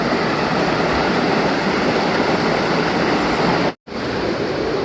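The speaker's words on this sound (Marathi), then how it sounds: "पाण्याचा फोर्स बघा मित्रांनो किती आहे तो" Forceful water rushes through a stream at a temple in the monsoon, a loud, constant broadband roar broken by one brief cut near the end.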